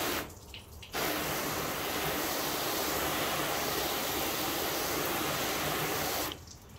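Water sprayed in a continuous hiss onto car paint coated with a graphene ceramic spray, starting abruptly after a brief quiet moment and running loud and steady for about five seconds before cutting off.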